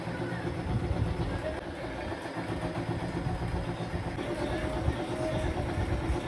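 A sewing machine runs zigzag stitches along the edges of fabric from an old skirt, a dense, steady motor whir with a fast rapid needle chatter, loud and close throughout with no pauses.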